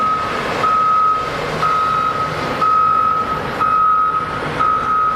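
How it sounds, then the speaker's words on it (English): Haul trucks reversing under the bucket of Caterpillar 982 and 986 wheel loaders on a job site sound a loud, steady series of evenly spaced reversing beeps over a constant engine drone. "So the trucks reverse underneath the bucket pin"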